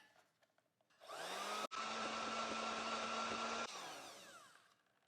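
A motorized whisk beats eggless vegan batter for traditional English pancakes, whining as it spins up, holding a loud steady drone with a momentary cut, then winding down, close and alone.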